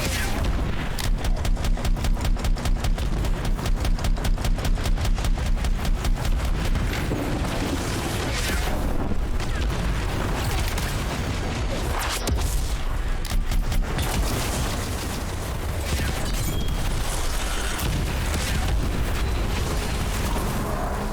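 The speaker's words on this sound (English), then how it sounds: "We got so many explosions, sniper shots flying down the line" Explosions and sniper gunfire from the Anthem video game pound continuously and loudly, with a rapid run of shots early on, then dense booms and blasts throughout.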